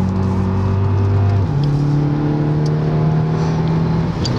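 A Volkswagen Polo GTI with a dual-clutch gearbox pulls along under load, a loud steady engine drone whose pitch drops at a gear change and then climbs again, with road and wind noise filling the background.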